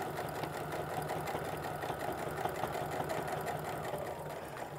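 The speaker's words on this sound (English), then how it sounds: "make sure that everything stays put and feeds nice and evenly through my sewing machine" A sewing machine stitching through several layers of apron fabric, running in a steady fast mechanical chatter at moderate level, continuous and alone.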